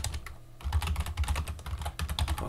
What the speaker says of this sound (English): So let me type.